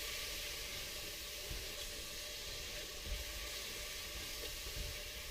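Beef curry fries in oil with a quiet, continuous hiss and sizzle, broad and even, with a few soft bumps and no talking.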